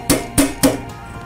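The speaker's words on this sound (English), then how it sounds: "and tapping on with a hammer." A hammer taps an antenna module box onto the front boom of a DigiTenna antenna, three sharp, close metallic knocks in an even rhythm, followed by a fainter fourth tap.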